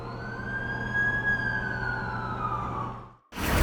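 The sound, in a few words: ambulance siren in Amazing Spider-Man 2 video game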